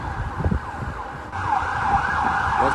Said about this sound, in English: you can hear sirens probably in the background in the distance